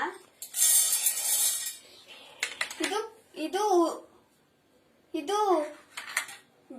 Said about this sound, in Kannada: ಈಗ ಚಟ್ನಿ ಮಾಡೋಕೆ ಈ ಪದಾರ್ಥಗಳನ್ನು ಮಿಕ್ಸಿ ಜಾರ್ಗೆ ಹಾಕಿಕೊಳ್ಳೋಣ.